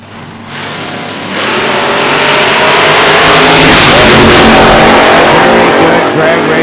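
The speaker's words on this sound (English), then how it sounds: "Very good drag race to the stripe." Drag race cars at the ANRA 2012 season finals eliminations charge toward the finish line, a loud, close engine roar that swells and holds steady for several seconds.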